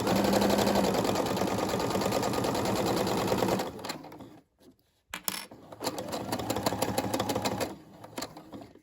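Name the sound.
Brother SE600 sewing machine stitching key fob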